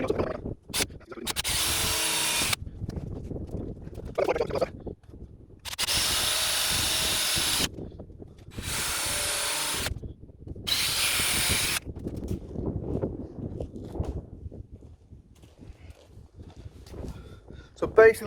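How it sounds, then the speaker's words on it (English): Several bursts of a power drill whirring in short runs, close by, drilling four mounting holes in a camper van, separated by pauses with quiet handling noises and occasional talk. "So let's drill 4 holes here and we're ready to mount this."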